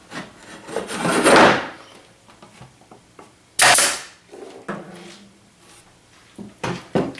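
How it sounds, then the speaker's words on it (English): Nail gun driving nails into a wooden drawer divider, with sharp, loud bursts around one and three-and-a-half seconds plus several smaller clacks and handling knocks on the board. "Making sure that the nails are actually coming out of the gun."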